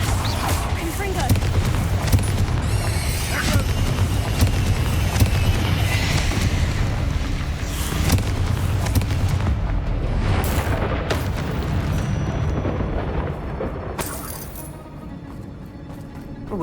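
Confringo blasting spell explosions in Hogwarts Legacy, a sustained barrage of loud booms and crackling bursts over game combat noise, with voices calling out amid the blasts.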